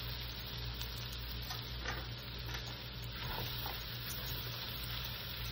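Jambalaya rice frying in a pan with browned garlic, a steady close sizzle that runs throughout with faint scraping stirs, no voices.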